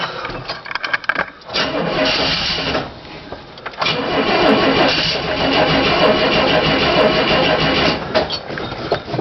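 An old car engine being started, with starter cranking and sputtering bursts before catching into a rough, loud running rumble that dips briefly and continues steadily.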